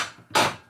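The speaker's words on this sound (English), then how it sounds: "Dowel pin remover." A dowel pin remover on a Harley twin cam engine takes a single sharp hammer strike, preceded by a fainter metallic tap, both close and loud in a quiet workshop.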